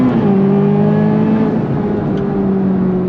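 A 2026 Chevrolet C8 Corvette ZR1 accelerates hard, its engine a loud, steady, deep roar with layered harmonics, heard from inside the cabin with no pause.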